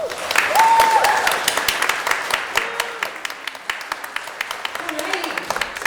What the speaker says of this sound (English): let's give one more round of applause to speak for all of our guest speakers